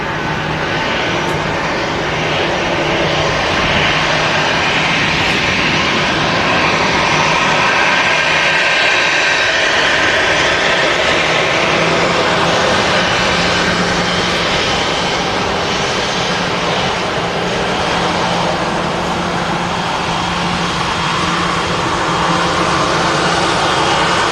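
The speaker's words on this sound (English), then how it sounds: "Jet 2757 departing Manchester Airport there." A Jet2 Boeing 757 airliner departs Manchester Airport with a loud, steady jet-engine roar that fills the whole stretch, close and continuous, with no voices over it.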